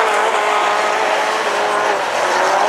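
A rallycross car accelerates hard at a semi-final race at Dreux, its engine a loud, dense roar that holds steady and close for the whole stretch with no pause.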